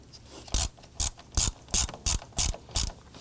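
Ratchet tightening a car battery's negative terminal on a 2015-2024 Nissan Murano 3.5L V6, seven crisp close clicking bursts in a steady rhythm, alone.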